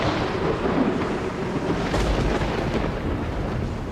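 Gusty wind roars steadily with a deep rumble of thunder rolling through the middle, building toward rain; no voices.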